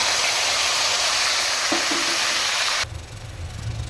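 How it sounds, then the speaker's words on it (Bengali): Ginger and green chili paste hits a hot pan with a loud, dense hiss and sizzle that runs steadily, then drops abruptly to a quieter spluttering near the end. "এবার আমি দিয়ে দেবো আদা কাঁচা লঙ্কার পেস্ট।"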